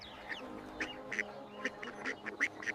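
A duck in a 3D animated farm story quacks repeatedly in short nasal bursts, several calls in quick irregular succession, fairly quiet and close with no talking.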